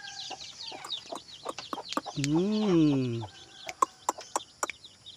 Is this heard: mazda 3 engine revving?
no